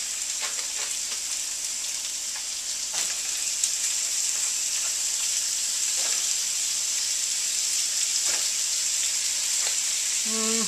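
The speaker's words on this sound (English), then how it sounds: "I can throw the beef in there now" Ground beef for bacon cheeseburger nachos fries in a pan with a steady, close, hissing sizzle that crackles continuously throughout, with occasional sharper pops and faint clinks.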